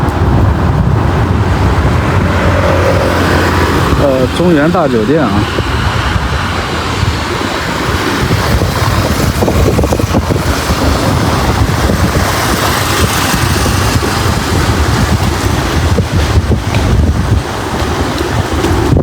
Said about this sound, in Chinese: 这会儿刮风了